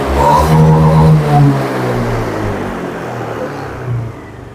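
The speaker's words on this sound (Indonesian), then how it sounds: "setelah mulai panas, langsung kita petot pada gripnya ya" A Honda Beat scooter engine, warmed up after an Alteco throttle-body cleaner treatment, revved with the throttle grip. It swells loudly, holds, then drops back to a steady idle rumble, close to the microphone.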